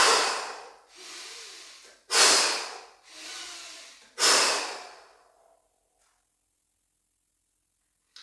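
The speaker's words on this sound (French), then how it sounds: "je vais prendre 3 vastes inspirations bien toniques. Et souffler puissamment" Three deep, vigorous breaths in, each followed by a forceful exhale, close and alone in a quiet room during a sophrology relaxation session, ending in silence.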